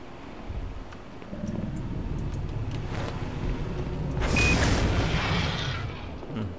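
A grenade explodes in the shooter game Black Mesa: a deep, rumbling boom swells over steady in-game ambience, then fades slowly.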